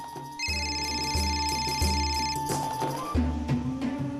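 A telephone ringing loudly and continuously, an electronic tonal ringtone with repeating pulses and shifting notes, alone without voices.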